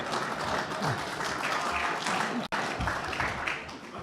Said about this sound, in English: Is applause from the press allowed?